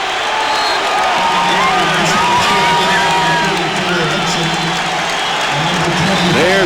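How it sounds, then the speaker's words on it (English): A basketball arena crowd at an Illinois vs Michigan State game roars and cheers with whoops and shouts, loud and sustained throughout, while a commentator talks over it. "It's got the crowd alive."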